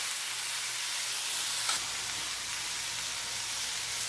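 Chopped tomatoes frying in a pan for an Andhra-style bitter gourd pulusu, giving a steady, close sizzle and hiss with a brief stir partway through and no talking.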